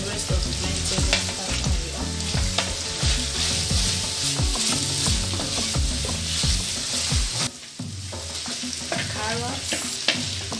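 Vegetables, carrots among them, are stir-fried with crushed ginger, garlic, crushed tomato and pepper for a pasta dish. Loud, continuous sizzling mixes with steady scraping and stirring, and it briefly quietens partway through before carrying on.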